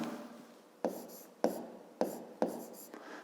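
A pen scratches on paper during a fifth-grade maths lesson, with soft steady strokes broken by several sharper taps as letters are finished, close and quiet with no talking.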